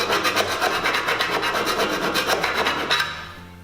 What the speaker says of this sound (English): filing off any sharp edges we may have created until we can run our finger down it and it feels smooth